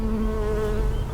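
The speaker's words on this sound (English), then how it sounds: "Oh, a little bee." Honey bees buzz steadily around an opened spring split beehive, a dense close drone with a few individual bees droning nearer, loud and continuous without talk.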